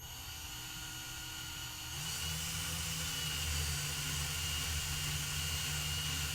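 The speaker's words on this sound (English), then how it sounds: "we are literally going to begin to drill" A high, steady power-drill whine with a broad hissing grind as the bit bores into a Kaba Ilco lock cylinder, rising slightly in pitch and loudness after a couple of seconds, continuous and close.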